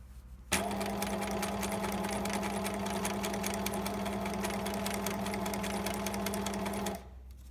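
A sewing machine stitching a bag strap starts abruptly and runs in one continuous rapid, even whirring burst for about six seconds before stopping, loud and close with no talk.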